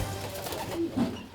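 Pigeons coo close by in a short, soft pair of low throaty calls over a little background noise, with no one talking.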